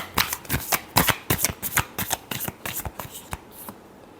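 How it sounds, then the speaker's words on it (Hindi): A deck of tarot cards shuffled by hand, a rapid series of crisp riffling flutters and slaps repeating in quick bursts, close and clear with no talking. "Last shuffle."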